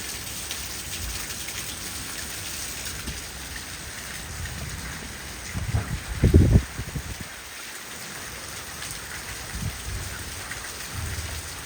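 Heavy torrential rainstorm in Islamabad, a steady dense hiss of rain pouring down with a deep rumble of thunder rolling through midway, nearby and loud.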